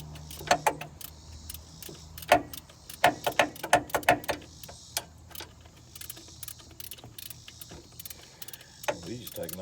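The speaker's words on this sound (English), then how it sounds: "We just taking off the alternator." A ratchet wrench works loose the bolts of a farm vehicle's alternator, giving bursts of quick metallic clicks and clanks close by, broken by pauses and scattered tool knocks.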